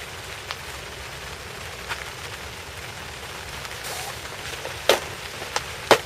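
Steady rain patters on a surface, with a few sharper drips and taps standing out near the end.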